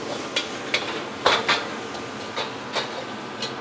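Food is stirred in a pan, with a utensil scraping and knocking against the metal in irregular clinks and taps. The sound is close and clear, with no talking.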